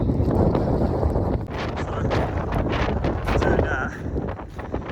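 Strong wind at a glacier in Iceland during an amber weather warning, buffeting the microphone in loud, continuous roaring gusts that rise and fall.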